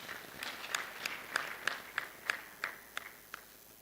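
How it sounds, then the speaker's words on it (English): A conference audience claps as a speaker takes the stage: faint, sparse hand claps scattered across a few seconds, sounding distant and thin rather than like full applause. "Please, a round of applause as he takes the stage."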